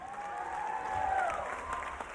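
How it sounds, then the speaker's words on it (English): Crowd at a WBC Muay Thai super bantamweight title bout applauding the challenger, steady clapping at moderate distance swelling slightly in the middle, with a faint voice-like tone drifting over it. "Also a big round of applause for his challenger"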